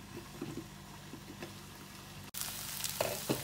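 Spiced tandoori chicken cooks in a covered pan with a soft, steady sizzle; a sharp click partway through is followed by a louder, brighter frying hiss.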